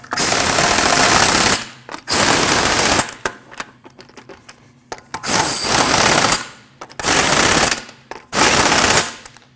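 An impact wrench on a 2014-2023 Jeep Cherokee snugs up wheel lug bolts in loud, close bursts of rapid hammering, five or six runs separated by short pauses and quieter clicks.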